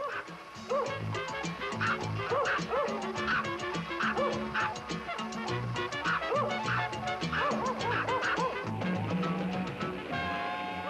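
A dog barks and yips rapidly and repeatedly over about eleven seconds while running on a homemade outdoor exerciser built from a Buick wheel hub attached to an old tabletop, with busy, overlapping barks throughout.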